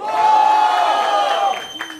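A live crowd at a Brazilian freestyle rap battle cheers and shouts loudly in sustained, dense noise for about two seconds, tapering slightly at the end.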